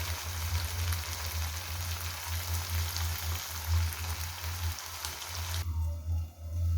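Prawns frying in oil for a gonguura curry, a continuous close hiss and crackle of bubbling oil over a low steady hum, easing slightly near the end.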